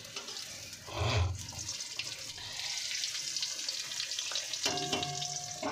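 Eggplant and pointed gourd fry in a pan at home, a soft continuous sizzle under faint kitchen clatter and a brief splash of running water.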